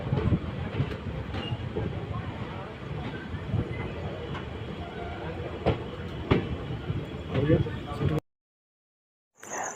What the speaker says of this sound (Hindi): अब हमारी ट्रेन स्किप कर रही है मोतीचूर रेलवे स्टेशन।